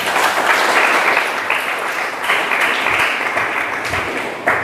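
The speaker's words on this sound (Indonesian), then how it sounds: "Tepuk tangan buat Tuhan." A congregation applauds during a church sermon, a dense steady wash of many hands clapping together, loud and sustained without a break.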